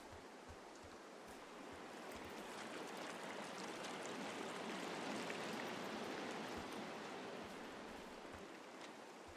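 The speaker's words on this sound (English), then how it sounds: "There is the river." A river flowing in the video game Firewatch, heard as a steady broadband rush of moving water that swells slightly in the middle and stays fairly quiet, with no voices over it.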